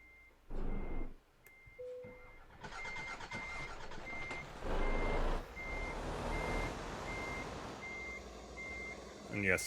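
Reversing beeps from a truck in Euro Truck Simulator, a steady evenly spaced electronic beep repeating about twice a second, heard under engine rumble, air brake hiss and bursts of louder noise, with someone talking.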